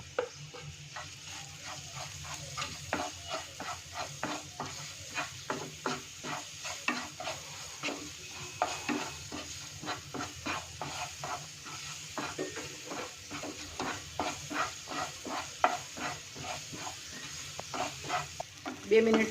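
Parwal pulp roasts with cumin seeds and hing in hot oil, a soft sizzle running underneath while a spoon scrapes and stirs the pan in a steady, repeated rhythm of close clicks for the whole stretch.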